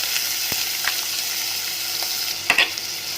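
Chopped onion frying in about two spoons of hot oil in a pot, giving a steady, even hiss with a few faint clicks and one brief clatter near the end.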